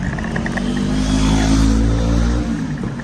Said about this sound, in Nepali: यहाँ त बाइकको त्यो साउन्ड सुन्दै पुरा खतरा